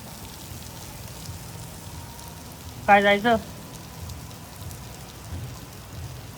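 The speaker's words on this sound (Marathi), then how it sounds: "एवढ्या पावसामध्ये? कसं जाणार?" Heavy rain pours down outside in a steady, dense hiss that lasts throughout, with a short spoken phrase cutting in near the middle.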